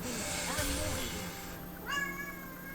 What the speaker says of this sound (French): J'ai mon chat qui veut rentrer, je vais lui ouvrir la porte.